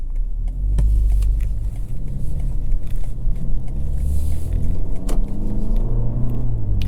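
A 2024 BMW X1 M35i sitting at a traffic light, giving a steady, close, low rumble from inside the cabin, with no voices present.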